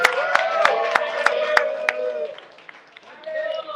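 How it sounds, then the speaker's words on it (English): Sharp handclaps at an evening crypto meetup fireside chat, seven or so evenly spaced and close, ring out over a voice talking, then stop while the talk continues. "Let's get a round of applause going for Abby to go."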